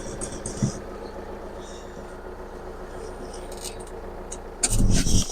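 A Volvo XC90 II D5 engine hums at a steady, low idle throughout after being started, then gets briefly louder and rougher near the end.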